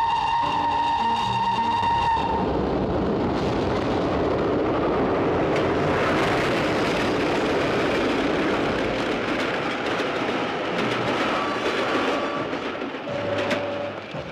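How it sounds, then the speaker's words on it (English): A train passes with a sustained horn blast at the start, then a loud, continuous rumble of wheels and cars that fades slightly toward the end, with another short horn note near the close; no talking. "Train coming."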